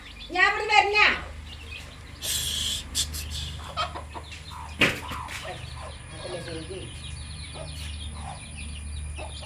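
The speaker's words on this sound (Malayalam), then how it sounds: "ഒന്നര മാസം ഇത് പ്രായമുള്ള നല്ല ആക്റ്റീവായിട്ടുള്ള ഈ കോഴിക്കുഞ്ഞുങ്ങളുടെ ചോദിക്കുന്ന വില രണ്ടായിരത്തി ഇരുന്നൂറ് രൂപയാണ്" Six-week-old chicks offered for sale cluck and squawk in short bursts at the start, followed by scattered softer calls and occasional thumps, with people talking nearby.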